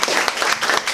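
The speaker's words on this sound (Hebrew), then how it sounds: "הנה, הוא נפתח ברגע זה, מגיעות תשואות" An audience applauds at the opening of an academic rhetoric conference with a brief, dense burst of clapping from many hands, steady and close, with no one speaking over it.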